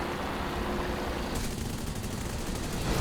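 Machine guns of a C.205 fighter in War Thunder hammer out a continuous, loud burst of rapid fire, then cut off partway through, leaving only engine drone.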